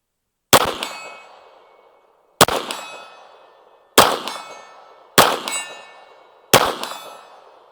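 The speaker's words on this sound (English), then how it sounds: "Now let's try making some hits on the seal target at 50 yards here." Five Glock pistol shots, each paired with a ringing clang from a steel target 50 yards away, spaced about a second or so apart, every sharp report followed by a bright metallic decay.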